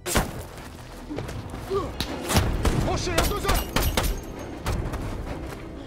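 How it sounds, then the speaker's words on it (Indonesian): An action-film shootout against a rebel sniper: rapid irregular gunshots and thuds crack through a dense, noisy battle mix, loud and continuous with no clear pauses. "terjadilah aksi tembak-tembakan"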